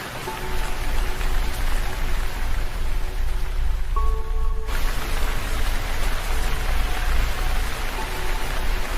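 Steady, dense rain falls continuously, a broad even hiss throughout with no voices.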